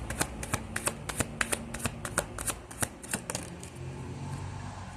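Tarot cards shuffled and drawn from each deck in a reading: a close, rapid, clicking rattle of cards flicking past each other for several seconds, then easing into a softer rustle, with no voice over it.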